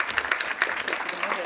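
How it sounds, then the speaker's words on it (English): Applause from a conference audience for panelists at the Rīga Conference, a steady patter of clapping filling the room for a moment at moderate level. "I think they deserve a round of applause for making this discussion in such a short time."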